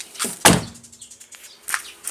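A Mercedes W210 door that closes poorly shuts with one sharp, close thunk, followed by faint rattles and a light click near the end, and no voices.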